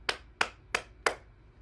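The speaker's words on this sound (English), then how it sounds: "Clap your hands" Four sharp hand claps in an even, steady rhythm, close and fairly quiet during a gentle morning bouncing and body-tapping exercise routine, with no talking over them.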